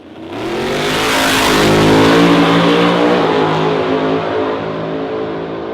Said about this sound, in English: I'll put a little clip in of Jim Plimpton's radio car.